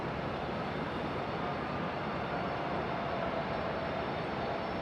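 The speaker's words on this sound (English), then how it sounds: "do have a departure coming up. Looks like Delta 2028, our only masked Delta A321neo" A Delta Airbus A321neo jet departs Raleigh-Durham airport, heard as a steady, broad roaring rumble at moderate distance that holds without clear rise or fall, with no talking.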